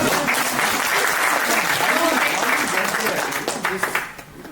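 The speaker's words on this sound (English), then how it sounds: "give a lot of applause" Audience applause at a scholarship panel discussion in Delhi, a loud, continuous burst of many people clapping that tapers off at the end, with voices mixed in.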